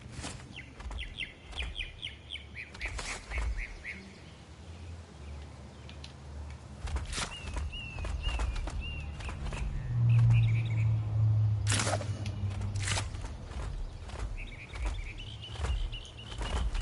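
Birds in the video game Ark: Genesis chirp and tweet in short bursts over a quiet outdoor ambience, with sharp clicks and thumps between calls and a low rumble partway through.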